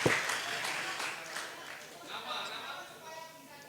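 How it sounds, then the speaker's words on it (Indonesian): Delegates at a church plenary session applaud for the Aceh delegation, a scattered round of clapping that starts sharply and continues unevenly, with voices talking over it. "tepuk tangan untuk Aceh, luar biasa"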